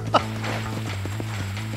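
Horse hooves clip-clopping at a steady walking pace across desert ground in the Red Dead Redemption video game, a quiet rhythmic tapping over a low steady background hum, with a brief louder knock near the start.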